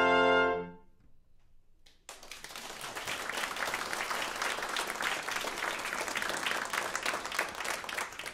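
Sustained audience applause fills a live performance space after a brass quintet plays theme music, following a brief tonal fade at the start; steady, dense clapping from a crowd, fairly close and continuous.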